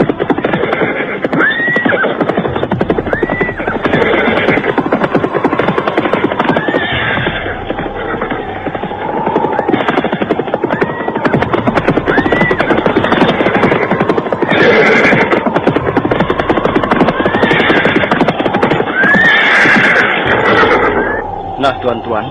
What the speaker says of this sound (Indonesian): rombongan berkuda yang dipimpin para pengalasan Weneh Suka itu pun sampai di kaki bukit Jaban